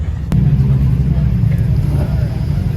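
A Toyota GR86 pulls out of a Cars and Coffee lot with a close, steady low engine rumble that holds evenly for a few seconds.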